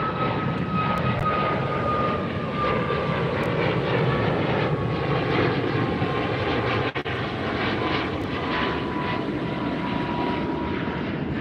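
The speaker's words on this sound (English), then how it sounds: "So this one's going to be Aero Mexico, 737" Aeromexico Boeing 737 MAX 8 passing over the beach at Los Angeles International Airport, giving a steady, loud jet roar with a gradually falling whine that holds throughout, with no talking.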